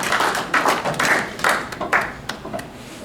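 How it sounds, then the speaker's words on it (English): Sparse audience applause at an author's labor talk, a smaller group clapping in uneven bursts with distinct hand slaps, fairly close and fading toward the end. "Let's give her a round of applause."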